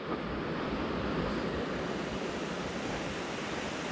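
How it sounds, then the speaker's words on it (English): A river rushes steadily beside a forest hiking trail, a continuous broad wash of flowing water, fairly loud and close, with no voices over it. "so you get those nice babbling river kind of sounds"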